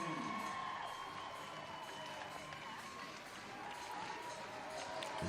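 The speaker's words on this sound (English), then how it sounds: "the crowd cheers for Toomey as she gets out of the water first" Crowd at the 2019 CrossFit Games final day cheering as an athlete comes out of the water during a swim event, a steady, broad roar of voices held throughout, with a commentator talking over it.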